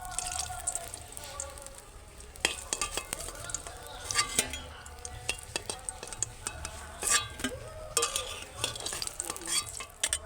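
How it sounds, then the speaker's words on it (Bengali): Brinjal fries in oil in a pan with its lid on, giving a continuous sizzle broken by sharp clinks and scrapes of a utensil against the pan. "এখানে ঢাকনাটা ঢাকা দিয়ে বেগুনটাকে ভেজে নিচ্ছি"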